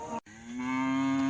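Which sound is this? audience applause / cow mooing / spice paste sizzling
cow mooing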